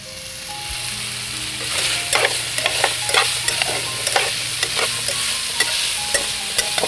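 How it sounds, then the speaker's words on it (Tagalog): Meat, sweet potato and pechay sizzle and fry in a pan while being stirred, with steady frying hiss and a run of sharp scraping clicks from the utensil, close up and with no talking. "Karne, tapos kamote, tapos haluan po natin ng pechay."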